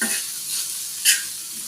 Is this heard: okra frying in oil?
yes